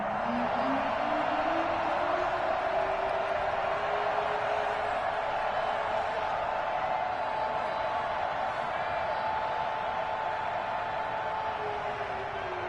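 Stadium crowd in the Madden 21 football video game, a steady, dense roar of cheering that holds at an even level throughout, with a commentator's voice faintly over it.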